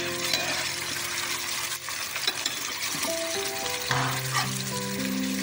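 Stuffed eggplant, a village-style Aagri bharli vangi, sizzles steadily in a pan while being stirred, with a continuous close frying hiss and occasional scraping through the whole stretch.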